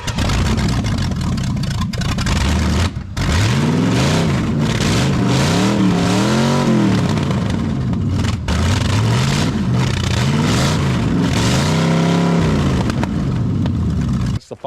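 A Corvette with a Cummins diesel swap, its engine running loud and close, revving up and down repeatedly in rising and falling sweeps over a steady idle, with no talk.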